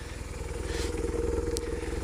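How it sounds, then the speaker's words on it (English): A 63-plate BMW RT motorcycle engine idling with a steady, even low thrum, close and loud, with a faint clatter partway through. "I'm going to start the bike up, the big old beast."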